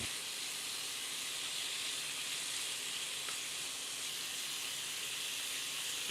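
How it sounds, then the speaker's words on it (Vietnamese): Continuous sizzling hiss of beef stir-frying in a hot pan, steady and fairly quiet, with no voices over it. "Tiếp đó, các bạn cho thịt bò vào chảo, đảo đều tay."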